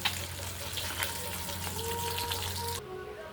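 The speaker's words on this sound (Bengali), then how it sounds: "আরও আছে দু পিস মাছ এটা ভাজবো" Pieces of fish fry in a hot pan, a steady low crackling sizzle that runs evenly throughout and cuts off abruptly near the end, with no talking.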